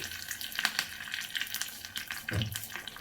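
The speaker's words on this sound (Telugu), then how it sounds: "స్టవ్ పై కడాయి పెట్టి వన్ టేబుల్ స్పూన్ ఆయిల్ వేసి వన్ టీ స్పూన్ పోపు దినుసులు రెండు రెమ్మల కరివేపాకు వేసి" Tempering spices and curry leaves crackle in a tablespoon of hot oil in a kadai on the stove, with irregular spattering pops over a watery hiss, close and unaccompanied by talk.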